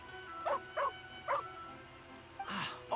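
A puppy in a video game gives three short whimpering yips at an even pace, then a longer whine, close and moderately loud against a quiet background with no talking.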